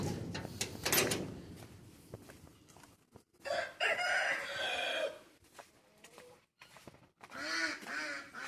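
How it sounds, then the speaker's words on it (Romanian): A rooster crows loudly several times in a row, close by, with harsh drawn-out calls separated by short pauses. "Cocoșul ăsta, ăsta trebuie să-l dau."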